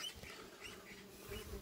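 Honeybees at a lakeside beehive, a faint, brief buzzing hum with individual bees droning close by over quiet outdoor background.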